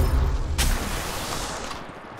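Gunfire in the Apex Legends Mobile battle royale game, a dense burst of shots at the start followed by a sharp crack and a rumbling, fading barrage of continued fire, loud and close.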